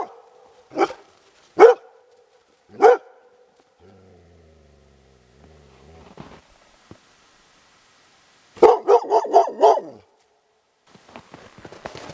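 Dogs bark outdoors in a wintry setting where wolves roam: three sharp, separate barks spaced about a second apart, then a quieter stretch and a rapid burst of several barks in a row, with faint noises between.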